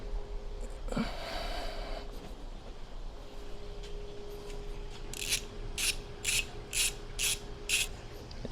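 A powered ratchet tool drives bolts while car wing risers are installed, with a steady motor whir followed by a run of short, sharp, evenly spaced clicking bursts close by.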